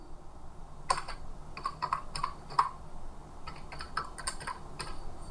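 Keys clatter on a computer keyboard as a WhatsApp password is entered, a quick irregular run of close, crisp clicks with brief pauses between bursts.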